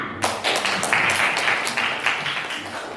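A class of ninth-grade civics students claps together in a classroom, a steady dense patter lasting about three seconds at moderate loudness, with a faint voice underneath.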